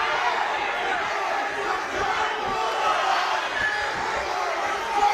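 A packed crowd at an under-60kg male boxing final roars and yells steadily, a loud continuous swell of voices and shouts filling the arena.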